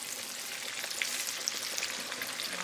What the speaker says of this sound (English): We're getting to the last step, which is frying our banana.